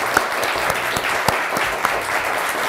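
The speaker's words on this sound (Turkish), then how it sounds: "Bir alkış lütfen." Studio audience on the Turkish TV word quiz show Kelime Oyunu clapping in a brisk, steady burst of applause with a few sharper claps standing out, close and loud.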